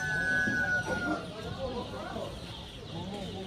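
Rooster crowing at a busy poultry market in Manas, heard amid a crowd of market noise and overlapping voices of people talking.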